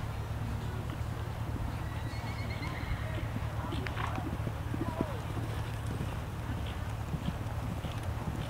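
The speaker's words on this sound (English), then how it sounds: "Canter your horses" Horses cantering around an arena during a riding lesson, hoofbeats and snorts blending into steady low arena noise, with faint clip-clop rhythm and occasional whinny.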